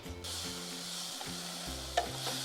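Curry powder and cubed eggplant sizzling in hot oil for an octopus curry, a steady close frying hiss with a few soft stirring scrapes and one brief clink, no voices.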